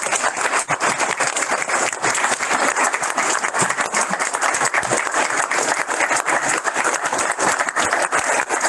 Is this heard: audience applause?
yes